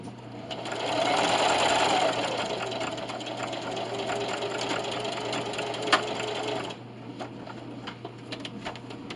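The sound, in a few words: sewing machine stitching a receiving blanket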